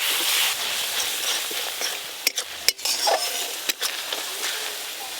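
A paste of ground chilli, turmeric and cumin with ginger, garlic and onion sizzles in a pan after a little water goes in, a steady close hiss broken by several sharp stirring scrapes, no talking.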